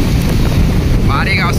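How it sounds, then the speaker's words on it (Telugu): Strong wind roars steadily during a heavy rainstorm in Hindupur, a loud, continuous rush buffeting close by, with a brief voice near the end. "ఇప్పుడే వర్షం కూడా స్టార్ట్ అయింది చూడండి, భారీ గాలి వాన"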